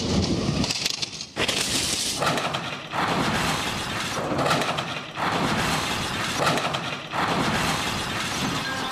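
A stretch Lincoln limousine jumps and smashes through a wedding party setup, giving a long, loud, dense run of crashing and shattering debris with brief breaks between bursts.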